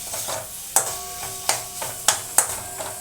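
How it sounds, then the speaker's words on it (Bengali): Rohu fish pieces frying with spices in a pan, a soft steady sizzle broken by sharp scraping clinks of a spatula stirring at regular intervals, close and fairly quiet, with no talking. "একটুখানি মশলার সাথে মাছটা কষে নেব।"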